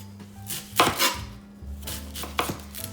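A knife chops onion on a cutting board for guacamole, a few quick clustered thuds with short pauses between, close and fairly loud over a low steady background hum.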